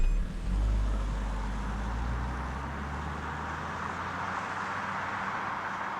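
A 2025 Nissan Qashqai e-Power compact SUV pulls away and drives, giving a quiet, steady electric-drive hum with low rumble and road noise that swells briefly at the start, then holds even throughout.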